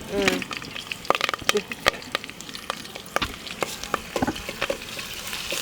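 Curry leaves and ginger garlic paste fry in a pan with a soft sizzle, broken by sharp crackles and spoon scrapes as they are stirred close up.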